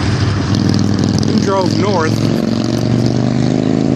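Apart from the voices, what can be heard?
motorcycles and cars on highway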